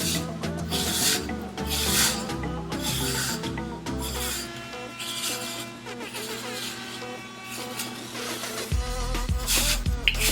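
Small brush rubbing and scraping through hair in rapid repeated strokes, close and fairly steady for about ten seconds with no talking.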